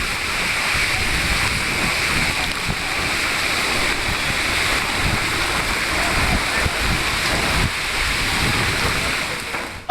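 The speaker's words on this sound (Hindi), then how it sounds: "इस समय भारत में बारिश ने" Heavy monsoon rain pours down steadily in news footage from India, a dense, continuous roar of falling water and runoff that stays loud and unbroken throughout.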